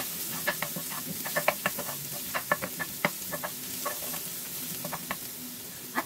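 Garlic sautéing with onion in a pan, a soft steady sizzle broken by frequent light clicks and taps of stirring, close and fairly quiet.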